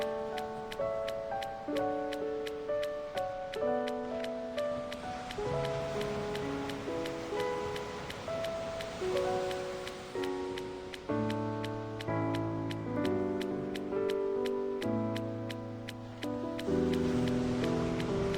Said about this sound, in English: It is nice listening to the waves though.